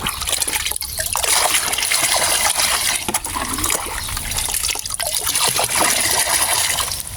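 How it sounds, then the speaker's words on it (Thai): Liquid fertilizer is poured into a container of plain water and stirred. A loud, close, continuous gush and trickle of liquid runs throughout with slight swells, and no voices are heard. "ให้เราเท ปุ๋ยน้ำของเราลงไปแบบนี้ได้เลยนะครับ เสร็จแล้วคนอีกทีครับ"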